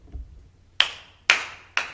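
Three sharp, separate hand claps tap out a New Orleans second line beat, crisp and fairly close, each followed by a short ringing decay, with a faint low thump just before.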